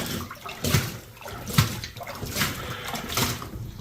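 Water runs steadily into a bucket with a close, rushing splash that swells and dips in uneven pulses.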